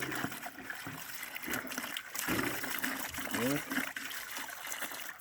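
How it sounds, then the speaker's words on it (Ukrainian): Water trickles and gurgles as grapevines are watered, a soft continuous flow with small splashes and bumps close by. "Поки водичка тече."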